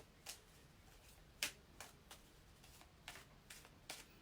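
A deck of cards is shuffled ahead of a card reading, giving a series of soft, sharp riffling taps spread unevenly, with one louder snap near the middle, close and quiet with no voices.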